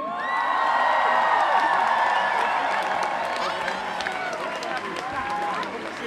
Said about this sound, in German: mit einem tosenden Applaus bitte ich Sie jetzt mal auf die Bühne